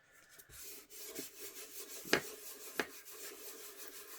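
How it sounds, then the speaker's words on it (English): Paper edges on an altered index card are smoothed down by hand on a desk, giving soft, quiet rubbing strokes with a couple of sharper scraping brushes near the middle, close and low in level with no talking. "And I'll just smooth the edges down."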